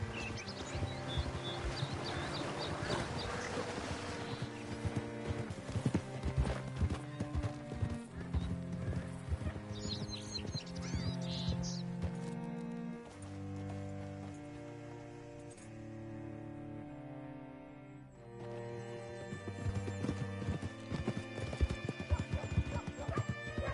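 Horse hooves clip-clop in a steady rhythm in Red Dead Redemption 2 on PS4, close and clear over the game's musical score, with an occasional whinny and faint clinks of tack.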